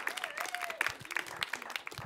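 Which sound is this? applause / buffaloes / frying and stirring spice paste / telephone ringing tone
applause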